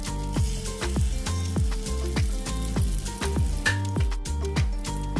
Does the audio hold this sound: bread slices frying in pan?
yes